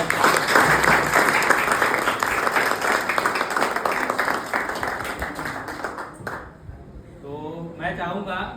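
Loud applause from a gathered audience welcomes a Class 8 girl student from Sainik School Kerala, steady clapping for about six seconds before fading, with a voice speaking briefly at the end.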